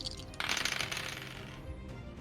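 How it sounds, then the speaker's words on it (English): Four dice tumbling and clattering across a table during a tabletop role-playing game, a brief quiet rattle of plastic rolling and settling over about a second. "So I'm going to roll 4 dice."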